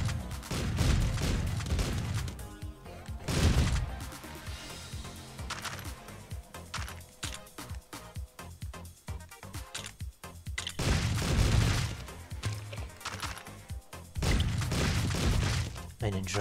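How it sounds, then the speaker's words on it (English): Booming shotgun blasts in the top-down game Streets of Rogue, heavy shots in several clusters amid a busy, cluttered soundscape of other game noises. "Someone's gonna just pull out a shotgun and go guns blazing."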